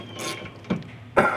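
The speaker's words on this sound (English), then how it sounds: "tighten up with the ratchet until it's snug" A hand ratchet tightening a bolt on a Nissan Juke rear brake assembly: a few short clicking bursts, close and fairly quiet, spaced apart with pauses between.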